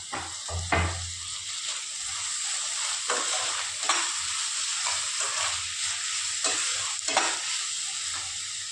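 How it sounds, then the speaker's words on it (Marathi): Chopped tomatoes going into a hot pan of crab masala, a steady sizzle and frying hiss with intermittent stirring scrapes and clinks throughout, close and moderately loud. "आता मी 2 टोमॅटो कापून घेतले होते ते घालते"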